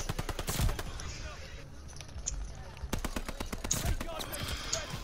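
Automatic gunfire in Call of Duty: Vanguard, with repeated rapid bursts of shots at the start and again in the second half over a busy game background, and a voice talking in places.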